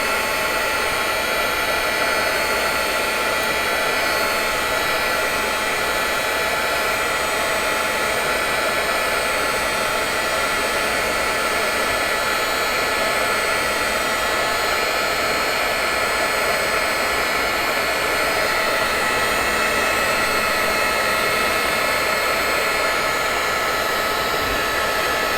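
A heat gun blows steadily, heating parts on a desk, giving a loud, constant airy whoosh with a fan whine that runs unbroken throughout, with no speech.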